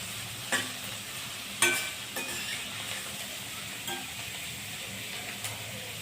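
Chopped onion sautés in a pan, producing a soft continuous sizzle broken by several sharp clinks and scrapes of the spoon as it is stirred.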